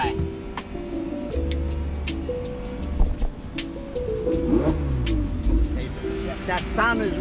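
A Ferrari 488 that had a battery fault runs with a steady, droning engine note that swells briefly as it revs, with wind rumble and voices talking over it.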